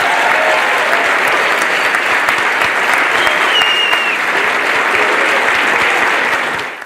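Sustained audience applause at a closing celebration: a full, even wash of many hands clapping at close range for several seconds, easing off at the very end, with a faint whistle partway through.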